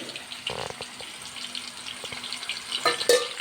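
Chicken pieces fry in hot oil in a home kitchen pan, a steady soft crackle with brief scraping and clattering bursts, close and fairly quiet, with a short louder clatter near the end.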